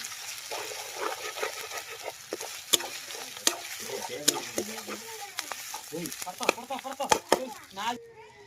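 Masala frying in a pan for a fish dish, a close sizzle broken by sharp scrapes and clinks of a spoon stirring, with someone talking over it and a bird calling faintly.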